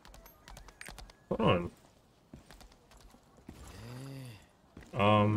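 Horse hooves clip-clopping in the video game Lost Ark, a string of sharp hoof clicks under a man's speech, with a brief whinny-like tone near the end.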